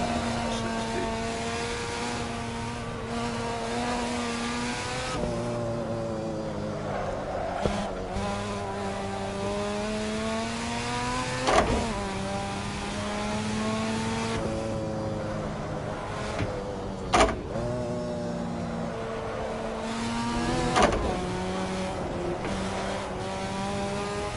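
A car in a driving video game slides through a series of corners at around 60, its engine whining and shifting pitch steadily while brief tire squeals and sharp knocks punctuate the run, with no talking.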